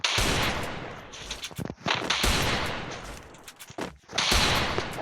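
Desert Eagle pistol fire in a shooting video game crackles in loud, closely spaced bursts of shots with brief pauses between them.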